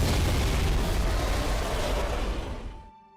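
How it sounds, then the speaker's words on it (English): A Lich vehicle blowing up in the Halo 3 video game, a loud, roaring blast with rumbling debris that holds for a few seconds before cutting off sharply. "Boom! Big ol' Lich explosion, dude."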